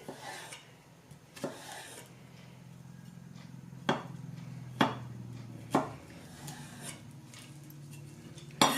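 A knife slicing zucchini thinly on a cutting board for a tomato and feta zucchini pasta, giving a run of crisp, separate chopping taps spaced about a second apart, close up, with quieter knife-and-board rubbing in between.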